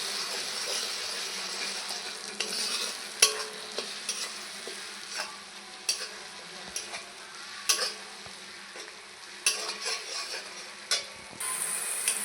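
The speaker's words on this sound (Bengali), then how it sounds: "ভালো করে একটু কষিয়ে নেব, যেন কাঁচা গন্ধ চলে যায়" Spice paste for a fish roe curry fries and is stirred in a pan, a steady close sizzle broken by regular spatula scrapes and taps, no voices.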